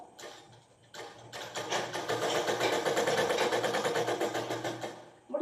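A sewing machine stitches cotton cloth for a knicker in short starts, then runs in a steady, close rattling rhythm.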